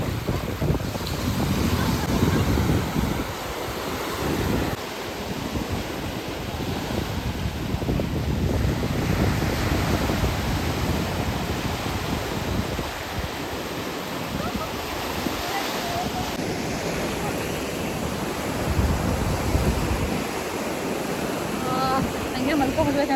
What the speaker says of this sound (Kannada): ಅಲೆಗಳ ಸದ್ದು.